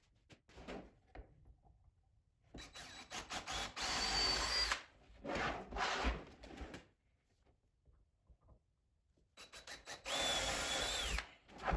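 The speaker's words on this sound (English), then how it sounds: "mark and drill a hole through the fence to correspond to that measurement" Power drill boring a hole through a wooden router table fence in several close, loud whirring bursts with quiet gaps between them, with faint bird calls in the background.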